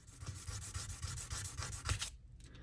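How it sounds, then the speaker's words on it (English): A Leatherman blade being sharpened on 1000-grit sandpaper laid over a flat glass mat, heard as a steady close rasping scrape in quick back-and-forth strokes before stopping abruptly. "Starts cutting through the sandpaper."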